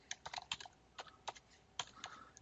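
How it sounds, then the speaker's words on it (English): Keystrokes on a computer keyboard entering an IP address to reach a WatchGuard XTM firewall web login, a quick irregular run of light clicks in short bursts with brief pauses, close and fairly quiet. "you're going to type in the IP address"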